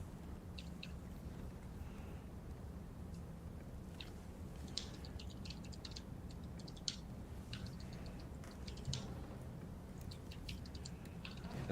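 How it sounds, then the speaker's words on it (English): Typing on a computer keyboard during a live stream, a steady run of light, quiet clicks and taps over a low background hum, with no talking. "Typing on a live stream is kind of frustrating"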